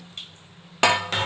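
A spoon stirs puffed rice upma with tomato in a pan. Two quick, close scraping strokes stand out against a quiet background.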